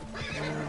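A horse in Last of Us 2 gives a short, loud whinny close by, brief and rising, over a low steady game drone.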